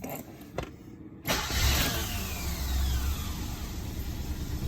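A Mercedes-Benz 230e W123 starts from cold with fresh spark plugs fitted. After a faint click or two the starter cranks briefly, then the engine catches and settles into a steady, fairly loud idle nearby.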